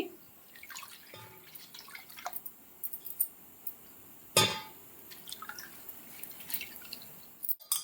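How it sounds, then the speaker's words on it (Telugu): Water dripping from squeezed chirraku leaves, scattered soft drips and small splashes at irregular intervals, faint and close, with one sharper splash midway. "ఇప్పుడు మేము దీన్ని బాగా పిండేసి పక్కన పెట్టుకుందాం చిర్రాకుని"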